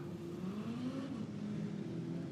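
Production sedans at Kingaroy Speedway rolling off in formation, a low steady engine drone and whir from a pack of cars, heard faint and distant throughout.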